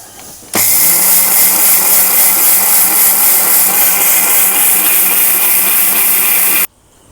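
A mixer grinder grinds rice with a loud, steady motor whine that starts abruptly, runs evenly for about six seconds and then cuts off.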